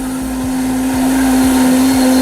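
An electric blender grinds mustard with a loud, steady motor whir and a strong constant hum, running alone without voices.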